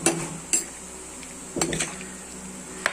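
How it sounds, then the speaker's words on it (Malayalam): A spoon stirs mango pickle in a pot, giving a few scattered clinks and scrapes of metal against the pot, each short and close, with quiet gaps between. "ഒന്ന് ഇളക്കിയിട്ട് നോക്കിയിട്ടിടാം."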